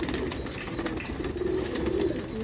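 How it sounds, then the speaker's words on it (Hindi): A small-bodied pigeon coos softly in a brief, low murmur over a noisy background, close but not loud. "तो छोटे से बदन का कबूतर है"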